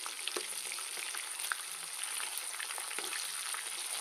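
Magur catfish crisping in hot oil, a dense steady crackle and sizzle with sharp spits and pops scattered through, close and continuous, no voices.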